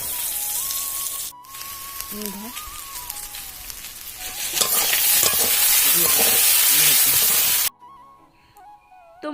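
Pointed gourd (potol) fries in a pan, a loud bubbling sizzle with scraping stirs that swells midway and then cuts off. A background tone and a faint voice sit under it.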